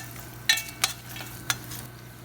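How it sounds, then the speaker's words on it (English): Turmeric and hing are stirred into hot oil in a pan, a steady low sizzle under a few sharp scraping clinks of the spoon, close and fairly quiet. "Mix the turmeric very well in the oil"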